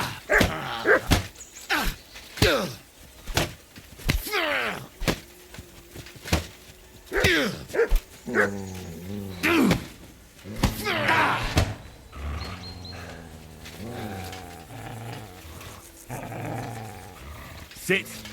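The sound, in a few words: dog barking and growling in Kingdom Come: Deliverance II video game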